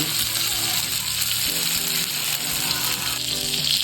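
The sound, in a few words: Sankara fish frying in a pan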